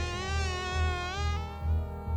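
Flies buzz close by in a wavering, continuous drone whose pitch rises and dips, set against a pulsing low background rumble.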